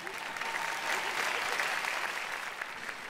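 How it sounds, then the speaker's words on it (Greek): Sustained applause from a concert audience at a celebration show, a dense, even wash of clapping that holds steady throughout. "πώς τους χειροκροτήσουμε"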